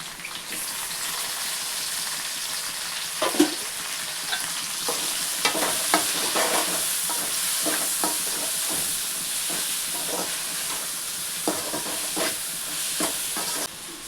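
Tomatoes fry and sizzle in a pan while a Sankara fish curry is being made, a steady hiss carrying intermittent scraping stirs and clinks throughout, with no talking.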